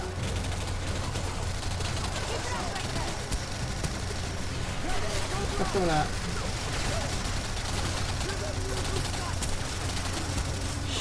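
An auto cannon fires in the PS3 game Singularity, rapid bursts of heavy gunfire crackling amid game noise and a low droning hum, with someone talking over the shooting.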